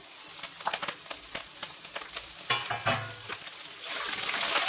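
Crushed ginger, green chilli and curry leaves sizzle in oil for a pulihora tempering, with frequent clinks and scrapes of a stirring spoon against the pan, close and fairly quiet, with the frying growing steadier toward the end.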